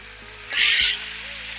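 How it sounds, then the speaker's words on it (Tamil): Rice and lentils roasting in ghee over a low flame for akkaravadisal, a steady close sizzle with a louder burst of frying in the middle, under a faint tonal hum and no talk. "இப்படி வறுத்து செஞ்சோம்னா அக்கார வடிசல் ரொம்ப வாசனையாக டேஸ்டாக இருக்கும்"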